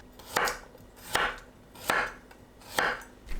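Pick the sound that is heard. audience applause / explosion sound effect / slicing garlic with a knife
slicing garlic with a knife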